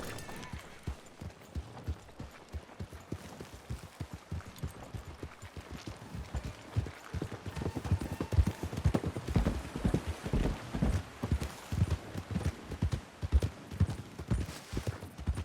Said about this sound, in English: I can get on your horse. I'm riding with you.